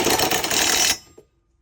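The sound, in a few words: rattle gun (impact wrench) tightening bolt on RV step pivot bar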